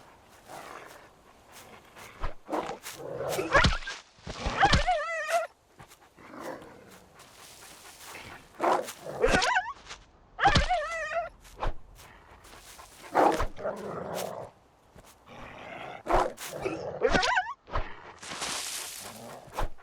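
A dog attacks the player in a survival video game, producing a run of sharp barks, yips and whining yelps in close, loud bursts that repeat irregularly across the whole stretch.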